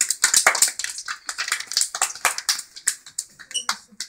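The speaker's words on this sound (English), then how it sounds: "Let's give a round of applause to Adriana." A small classroom group claps for a student, uneven bursts of hand claps at close range, light and scattered rather than a full ovation, with some talking mixed in.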